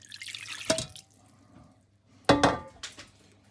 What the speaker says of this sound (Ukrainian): коли у нас вистив маринад, ми його заливаємо у нашу скумбрію